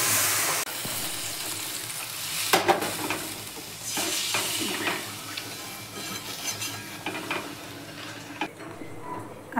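Water hits hot oil in a pan of fish curry, giving a hissing sizzle that goes on under scattered scrapes and clinks of a spoon stirring against the pot.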